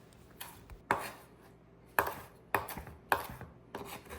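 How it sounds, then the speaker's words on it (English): A knife chops through salad greens on a kitchen board, a handful of crisp, close strikes landing at an uneven pace with soft rustling between them. "I'm just going to chop up all these greens"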